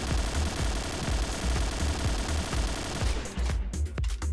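Gunfire in the video game Point Blank, normal shooting with the zoom scope, sounds as rapid repeated shots in a fast steady rhythm, loud and close, before breaking into a few separated shots near the end.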